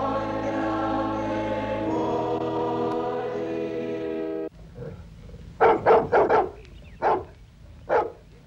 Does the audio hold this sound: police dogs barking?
yes